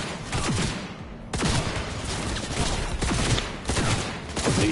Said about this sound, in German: Ich verschieße jetzt da einfach mal ein paar Bullen.